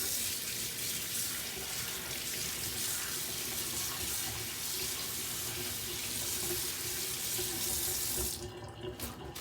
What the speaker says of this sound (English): Just gonna rinse my hands off. I got a little bit of paint on them.